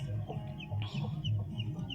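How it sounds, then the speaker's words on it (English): Chickens cluck in short repeated bursts, close by, with a few higher squawks mixed in over quiet background. "Some people also keep chickens as pets."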